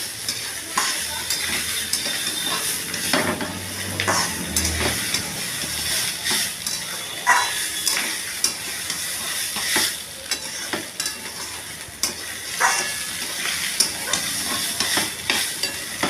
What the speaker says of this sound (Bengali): আর ভালো করে নাড়াচাড়া করব।